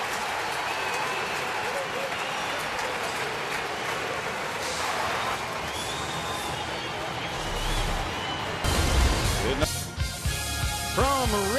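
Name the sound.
baseball crowd ovation after a single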